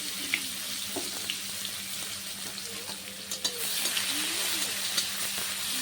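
Onions frying with whole cumin in a pan, a moderate steady sizzle with scattered stirring clinks and scrapes, fairly close and without talk.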